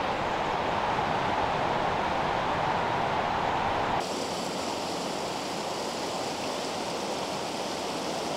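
A river flows through a Pacific Northwest forest off a forest road, a steady, loud broadband rush of water that holds continuously and shifts slightly in tone partway through, with no voices.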